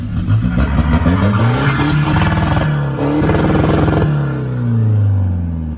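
A remapped Isuzu D-Max Euro 3 pickup diesel engine revs hard and repeatedly, bouncing off the limiter with a stuttering choppy pulse between climbs, loud and close.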